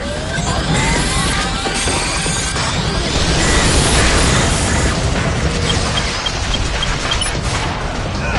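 Railgun shot and explosion in the action video game Vanquish: a loud, continuous roar of booming blasts and crashing debris over a dense, rumbling din, sustained throughout with no pause.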